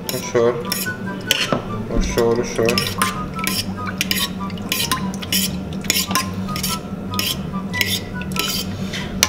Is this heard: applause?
no